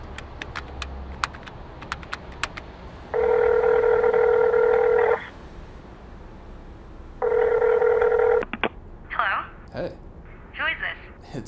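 Payphone call tones ring out as two long, loud electronic tone bursts separated by a pause, with a few faint clicks before and short bits of voice afterward.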